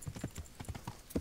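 Horse hooves clip-clopping in Kingdom Come: Deliverance while riding through a thicket, a quick uneven series of soft hoof beats, faint and close, with no talk.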